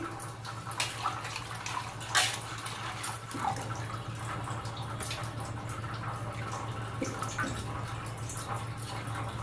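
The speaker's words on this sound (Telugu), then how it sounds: "ముందుగా ఈ ఆకుని వాటర్లో రెండు మూడు సార్లు కడిగేసుకోండి" Spinach leaves are swished and splashed in water, with scattered drips and sloshes over a steady low hum.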